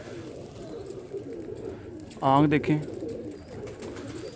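A pigeon gives a single short coo close by, rising out of a background of other birds, while someone talks briefly at the start.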